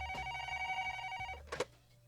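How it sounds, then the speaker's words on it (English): A telephone rings with a bright, sustained electronic bell tone for over a second, then cuts off, followed by a brief clatter. "the phones immediately started ringing"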